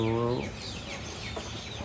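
Poultry flock of three roosters and four hens clucking: a short, loud, harmonic call right at the start, then fainter scratchy farmyard noise.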